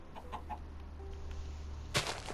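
Chickens in a Minecraft game give several short, soft clucks in quick succession over a low steady background hum, ending with a brief louder noisy burst, with no voices.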